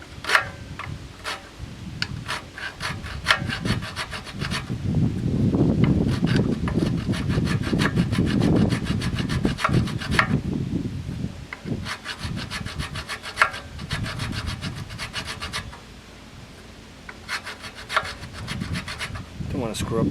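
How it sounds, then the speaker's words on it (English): A metal file rasps back and forth across a broken-off bolt on a Craftsman 5hp 2400-watt generator, steady, close scraping strokes with short pauses between passes and no talking. "I'm going to take the file and see if I can make it even flatter"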